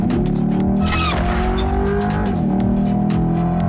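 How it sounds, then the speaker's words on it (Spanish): Chevrolet Corvette C8 Stingray sports car, loud and close, its engine roaring steadily throughout with shifting harmonics as it picks up speed, and a brief squealing, skidding texture in the middle. "A ver, acelera tantito, pero sin marearme, güey."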